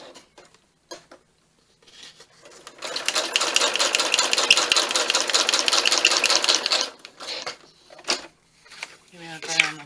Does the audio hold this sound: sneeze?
no